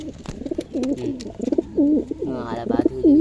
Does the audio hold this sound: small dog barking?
no